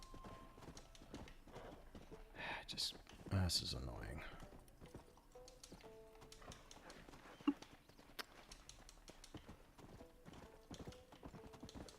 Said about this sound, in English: Dumb horse.